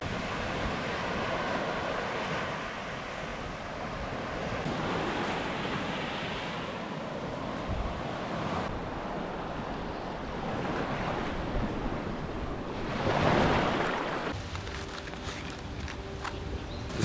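Ocean waves wash against the shore of a remote island at a fishing spot in a continuous surf rush with wind noise, and a louder breaking swell swells up near the end.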